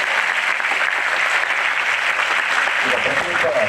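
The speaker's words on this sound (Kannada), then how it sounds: "ನಿಮ್ಮೆಲ್ಲರ ಹೃತ್ಪೂರ್ವಕವಾಗಿರ್ತಕ್ಕಂಥ ಜೋರು ಚಪ್ಪಾಳೆಗಳನ್ನು" An audience applauding after a stage play: a dense, sustained wash of clapping that holds steady throughout, with a voice speaking over it.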